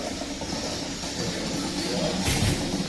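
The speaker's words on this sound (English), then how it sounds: "Yeah, we got virtual rail fan going on from Lincoln, Nebraska this morning. Got a coal train." A coal train passing through Lincoln, Nebraska rumbles at a distance, a steady low rolling drone with a hissy wash and a brief louder burst near the end.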